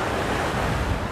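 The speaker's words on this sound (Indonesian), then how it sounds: "Pantai Sadranan." Surf breaks on the sandy beach at Pantai Sadranan, Yogyakarta, a loud, dense, continuous wash of waves with wind noise, and no voices.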